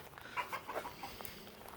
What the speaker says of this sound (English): right now, we have the chickens in here